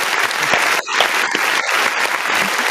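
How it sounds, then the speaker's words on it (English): Applause from a small crowd, steady dense clapping for about three seconds with a brief dip near the one-second mark, close and fairly loud. "give a round of applause for that."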